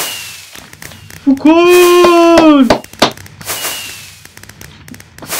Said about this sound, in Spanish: cómo me gustan a mí los petardos estos de fallas